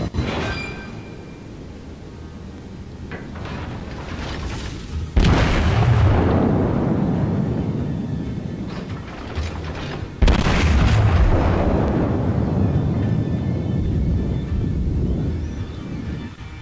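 Naval guns firing full salvos in World of Warships, two heavy booming blasts several seconds apart, each followed by a long rumbling roar that slowly fades, loud and close with no talk.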